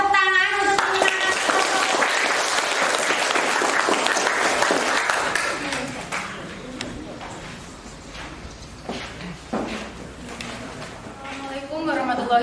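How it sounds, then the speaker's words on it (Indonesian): A group of teachers at an in-class training event claps for a presenting group. The broad applause fills the first several seconds, then thins out as a voice starts speaking. "Berikan tepuk tangan untuk penyemangat."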